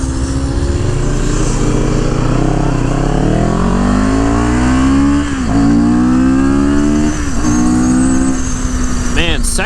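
A CFMOTO motorcycle engine revs hard as the bike accelerates, pitch climbing through the gears with brief dips at shifts, loud and close throughout with a rider's voice faintly in the background.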